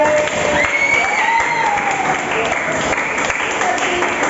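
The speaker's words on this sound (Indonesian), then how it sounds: "Kalian tepuk tangan buat mereka." Applause from a class of students after a teacher asks them to clap, a dense, loud burst of clapping with some cheering and voices mixed in throughout.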